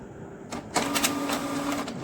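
A Canon Pixma E4570 printer pulls in a sheet of paper and starts printing, with a short mechanical clunk and then a steady whirring feed, close by.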